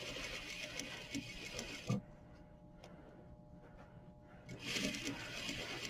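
A sewing machine runs in short bursts while stitching horsehair braid into a hem on a muslin sample, close and steady, pausing briefly in the middle before whirring again.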